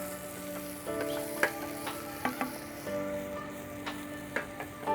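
Mushrooms sizzle in a frying pan with a steady, close frying hiss, broken by a few sharp utensil clicks and stirring taps; no one speaks.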